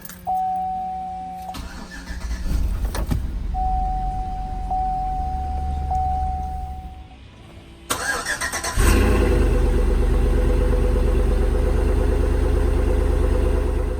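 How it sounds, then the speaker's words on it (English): Cold start of a Chevrolet Camaro with a newly repaired transmission: a chime and a cranking starter are followed by the engine catching with a loud roar, then settling into a steady, deep idle, close to the car with no voices. "Let's give it a little cold start"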